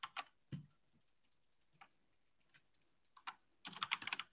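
Password being typed on a computer keyboard while connecting to a computing cluster: a few isolated, quiet key taps, then a rapid close-up burst of clicking keystrokes at the end, no talking.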